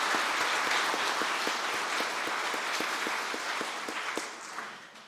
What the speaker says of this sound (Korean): 우리 서로를 격려하는 의미로 뜨겁게 박수하겠습니다